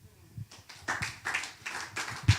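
Audience applause after a speech at a family wealth conference in Nigeria, with a short run of scattered, fairly soft claps in a hall.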